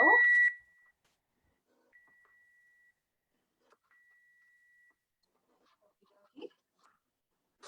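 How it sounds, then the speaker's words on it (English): Kitchen timer beeping during a cooking session, with a loud electronic beep at the start followed by faint, steady tones and a few scattered light knocks and clicks. "my timer went off."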